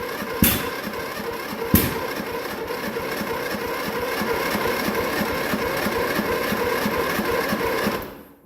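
A John Deere Sabre lawn tractor engine cranks on a cold start without firing, two sharp clicks opening a steady, loud, rapidly pulsing churn that runs for several seconds before cutting off.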